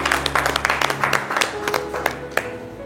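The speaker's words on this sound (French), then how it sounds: "On l'applaudit jusqu'à ce qu'elle arrive." Studio audience at a Valentine's Day TV show clapping in an uneven, loud patter over a steady background hum, with a few sharper claps standing out near the end.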